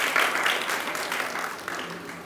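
An audience at a Vedic yajna gathering in Kalkaji claps for the acharya and the seated mantra-reciting scholars, a steady wash of applause that holds level across the short stretch before thinning slightly.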